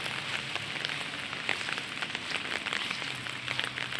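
Steady rain falls outdoors near a white-sand beach, a continuous close hiss with scattered drop patters and no talking.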